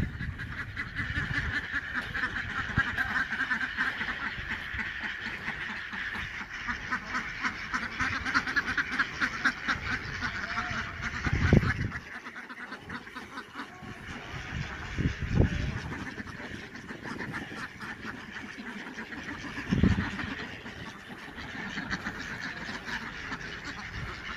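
A flock of ducks on a farm quacks continuously nearby, a busy overlapping chatter with a few louder honks standing out.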